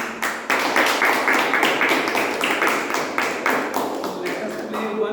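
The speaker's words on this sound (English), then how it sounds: "let us clap more." An audience at a Toastmasters meeting claps loudly and in unison, about a dozen sharp, evenly spaced claps close by, after a brief gap at the start.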